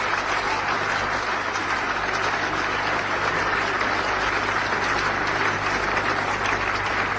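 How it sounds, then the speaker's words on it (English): Sustained crowd applause at the 1989 Ashes fifth Test between England and Australia as the 100 comes up, a dense, steady roar of clapping from a large cricket ground crowd that holds evenly throughout with no voices on top. "applause for the 100"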